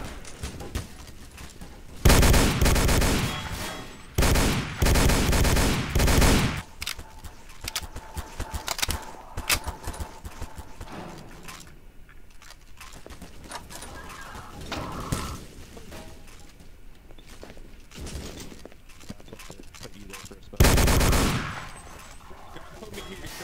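Video game gunfire in bursts: loud rapid volleys and single shots, some near, others more distant, separated by quieter gaps with ambient game noise.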